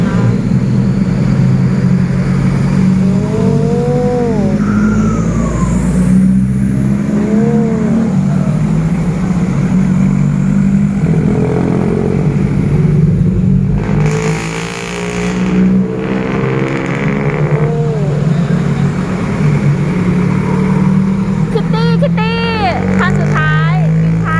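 A convoy of trucks sets off from a temple in Ubon Ratchathani province, Thailand, with a loud, steady engine drone and rumble throughout, plus occasional voices and passing-vehicle swells.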